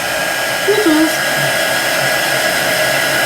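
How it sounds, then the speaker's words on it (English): A handheld heat dryer runs steadily, drying chalk paste on a craft project; a constant close, loud whirring blow with a brief brushing movement near the start. "I'm going to dry that for a second."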